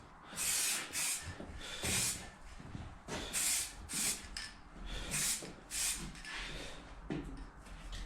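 Primer filler sprayed onto a KL250 motorcycle part, a series of close, hissing spray bursts in an uneven rhythm with short pauses between passes.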